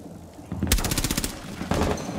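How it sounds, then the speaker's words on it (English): Bursts of enemy gunfire in Rainbow Six Siege on the Chalet map, a rapid volley of loud shots followed by a second short burst, with no talk over it. "She's shooting at me."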